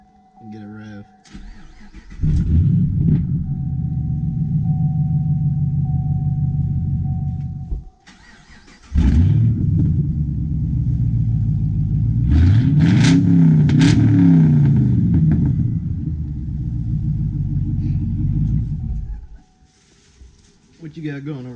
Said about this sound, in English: I'm gonna fire this thing up and then I'm gonna have someone come over here and record from the back and get a rev